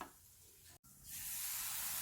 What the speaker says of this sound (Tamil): இப்போ அடுப்பை ஃபுல் ஃப்ளேமில் வச்சுட்டு சுகர் சிரப் சேர்த்துக்கலாம்